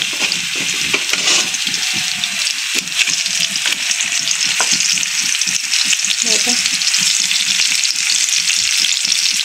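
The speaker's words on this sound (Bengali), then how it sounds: "এই কয়টা মাছই আগে ভেজে নেবো" Fish sizzles and spits steadily in hot oil in a pan in a village kitchen, a loud, close, continuous frying hiss with small crackles throughout and no talking.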